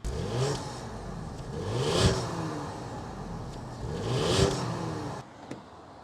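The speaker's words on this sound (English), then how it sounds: "start it up, so you can hear that twin turbo V6 exhaust" A 2025 Ford Explorer ST's twin-turbo V6 revs twice in strong, rising bursts, its deep exhaust roar swelling and falling back to a steady idle between them, close and loud.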